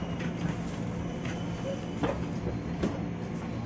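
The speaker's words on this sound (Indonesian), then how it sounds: "Kereta kita masuk di jalur 7 stasiun Manggarai." Commuter line train pulling into platform 7 at Manggarai transit station, a steady low rumble of wheels and carriage noise with a few soft clunks and rattles spaced through it, heard from inside the train.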